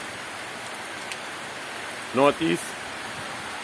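Steady, dense tropical storm rain falls outdoors near a pigeon loft in Trinidad and Tobago, a constant wash of rainfall throughout with a brief spoken phrase over it.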